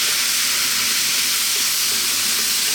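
Fresh, ripe tomatoes hit a hot pan for cumin tomato chickpeas, giving a loud, steady, close sizzle that hisses without pause and without talk.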